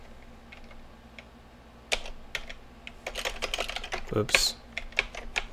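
C code is typed on a computer keyboard in uneven bursts of close, crisp key clicks that grow busier midway, with a brief voice.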